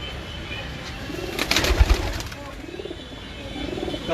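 Pigeons coo softly in low, rolling bursts, with a brief clatter of movement in the middle and faint background noise.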